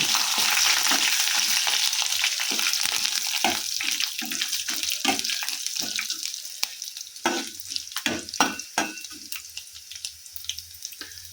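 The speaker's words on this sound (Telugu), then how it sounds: "ఎల్లిపాయ గర్భాలు తాలింపులోనే వేసేసా" Garlic cloves sizzle in hot tempering oil with cumin seeds and urad dal, a steady close hiss and crackle that thins into scattered pops and stirring clinks toward the end.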